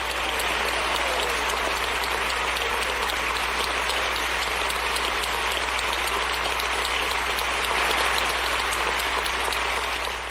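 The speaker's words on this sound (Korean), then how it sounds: "기립박수를 이렇게 쳤습니다" Members of the Canadian parliament give a standing ovation for Zelensky, a long, loud and unbroken roar of clapping over a low room hum.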